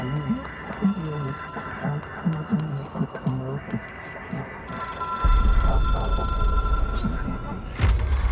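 A phone rings in the video game Control, a repeating electronic ring over a steady low hum that gives way to a louder, deeper rumble partway through.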